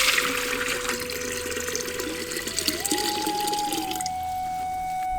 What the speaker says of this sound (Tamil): நரிப்பயிரை வேக வைக்கிறதுக்காக ஒரு பானையில 1 லிட்டர் தண்ணியை ஊத்திக்கலாம்